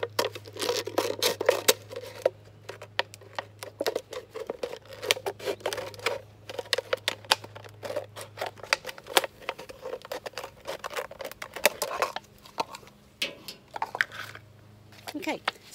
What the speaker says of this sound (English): I'm going to stick my scissors in there, just like this. And now I'm going to try to cut it